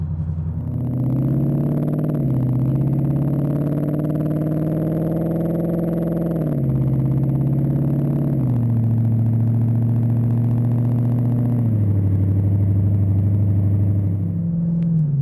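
A deep, loud V8 exhaust from a 2015-2017 Mustang GT with a MagnaFlow Competition Series quad-tip exhaust rumbles close by, repeatedly revving up and settling back as the engine pitch rises and falls.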